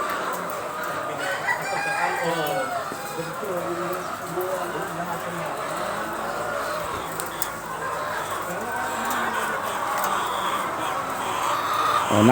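Chickens on a 10,000-bird layer farm: a rooster crows repeatedly over steady clucking from many hens inside a poultry building, a dense continuous flock noise with someone talking at times.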